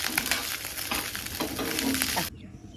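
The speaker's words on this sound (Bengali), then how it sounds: "ডালটা করেছিলাম সেই ডালটা এখন গরম করে নিচ্ছি" Cooked dal is reheated in a pan with a steady, close sizzle and occasional stirring scrapes, which stop abruptly just before the end.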